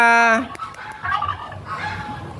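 A loud nasal honk opens, followed by a flurry of softer honks and clucking calls from several geese close by.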